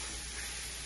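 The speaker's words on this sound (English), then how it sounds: "So we're gonna start this here and let it sizzle." Plain boiled chicken leg meat sizzling in a hot pan for a soup, a steady close crackling hiss that holds even throughout with no talk over it.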